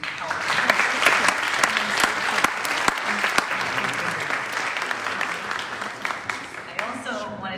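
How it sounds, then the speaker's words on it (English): Audience at a spring convocation ceremony gives a sustained round of applause, dense clapping with a few sharper claps standing out, tapering slightly near the end as a voice comes in. "I wonder if we can show a round of applause to everybody who helped"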